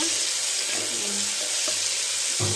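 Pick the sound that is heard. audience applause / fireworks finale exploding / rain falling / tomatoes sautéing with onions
tomatoes sautéing with onions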